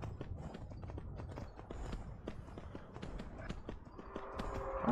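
Horse hooves in Skyrim VR, a quick, steady clip-clop of repeated hoof strikes, moderately close and fairly quiet, with no talk over them.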